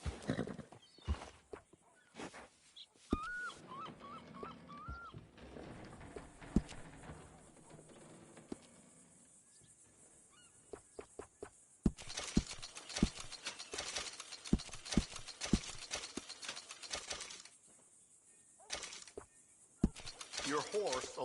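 A horse in Red Dead Redemption 2 makes scattered hoof clops, shuffles and a brief whinny near a stable, interspersed with quiet stretches and clusters of sharp clicks and thuds.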